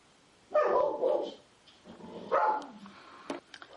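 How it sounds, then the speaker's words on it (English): A dog throws a loud fit in a hallway, with two bursts of barking and whimpering yips about two seconds apart, followed by a few fainter clicks. "I guess the dog decided to hang out in the hallway and throw a big fit"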